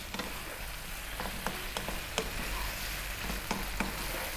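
Beef and eggplant pieces fry in a hot pan, a steady bright sizzle with occasional scraping taps of stirring scattered throughout, close and fairly quiet with no talk.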